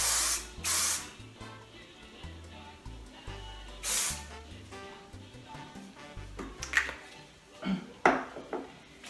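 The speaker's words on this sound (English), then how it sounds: "I don't put a ton of hairspray on" Several short bursts of hairspray misted onto hair to tame flyaways and add volume, the hissing puffs coming close and loud in separate blasts over soft background music.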